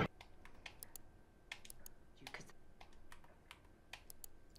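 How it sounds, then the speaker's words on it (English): Computer keyboard typing in the video game Telling Lies, a quick run of light key clicks in irregular bursts, fairly faint and close, with no talking. "Hopefully I'm not typing too fast for you."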